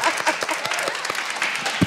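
An audience breaks into brisk applause, a dense patter of many hands clapping at moderate volume, with some crowd voices mixed in.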